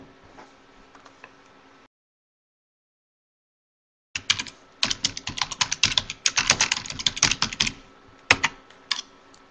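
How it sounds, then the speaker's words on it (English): Typing on a computer keyboard, brief faint clicks followed after a silent gap by a dense, close run of rapid irregular keystrokes, heard alone without speech. "I need to improve my typing"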